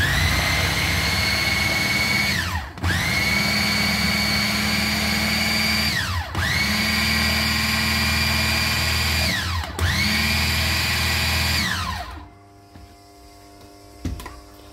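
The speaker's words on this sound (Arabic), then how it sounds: "وهبدا اضرب كل ده كويس بالكبه بتاعتي" Electric hand mixer whipping a cream cheese mixture: four runs of a loud, steady motor whine, each about three seconds with brief dips between, then the motor cuts off into quiet kitchen noise.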